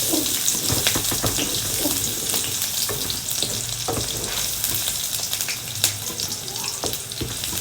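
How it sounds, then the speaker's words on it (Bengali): Chopped onion and one clove of chopped garlic frying for a beef dish, a continuous close hiss and sizzle with scattered crackles and a few stirring clinks, steady throughout without talk. "এখন দিয়ে দেব আমি পেঁয়াজ কুচি এবং সাথে রসুন কুচি আছে।"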